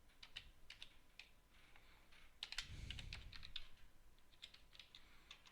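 Fingers type on a computer keyboard in quick, irregular clicks and taps, soft and close, with a brief low thump partway through and no voices.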